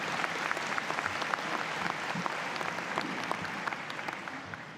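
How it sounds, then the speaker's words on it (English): Sustained applause from a large audience at a university convocation ceremony, a dense steady wash of many hands clapping that runs evenly and fairly loud through the whole stretch. "let's give another round of applause for our President, Dr. Rowley."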